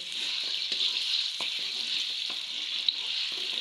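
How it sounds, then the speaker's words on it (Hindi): Steady crackling sizzle of spices frying in hot oil, continuous and fairly close, with a few soft clinks of a utensil stirring. "तो इधर हमने तड़का रख दिया, तो हम तड़का लगा लेंगे"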